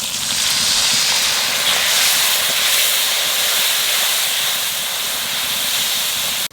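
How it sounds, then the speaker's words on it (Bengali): Spices frying with turmeric, salt and a splash of water for a mutton curry, giving a steady loud sizzling hiss that continues evenly throughout and then cuts off abruptly. "মশলা কষানো হয়ে গেছে"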